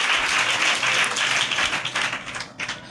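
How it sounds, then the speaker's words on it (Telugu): A church congregation at a fasting prayer meeting claps loudly and steadily in praise, dense crowd applause that thins toward the end. "చప్పట్లు కొట్టి గట్టిగా దేవునికి స్తోత్రం"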